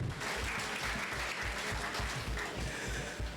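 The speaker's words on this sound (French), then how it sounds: "J'aurais aimé que vous les applaudissiez, s'il vous plaît." A hall audience at a student association event in Dakar gives steady, dense applause, fairly faint and distant, holding an even level throughout without a break.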